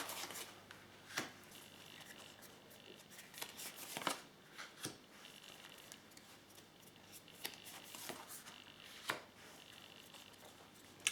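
Tarot cards drawn from a deck one by one, quiet close card snaps and slides spaced a few seconds apart over a soft room background.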